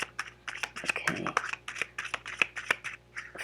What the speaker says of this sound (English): A few more shuffles, and then I will just choose one.